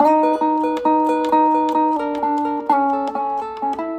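A Chicago-style electric blues guitar plays the standard turnaround, moving through clean, ringing double-stops with quick picked attacks, steady and close with no voices.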